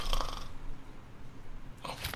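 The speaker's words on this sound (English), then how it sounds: "I snored and ate at the same time then," A person snores while eating, giving two short, raspy snorts, one at the start and one near the end, with quiet breathing and faint noise between them.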